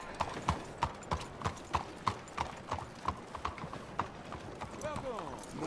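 Steady clip-clop of horse hooves in Red Dead Redemption 2, an even rhythm of sharp clops in a town, close by, with some background noise and a brief snort near the end.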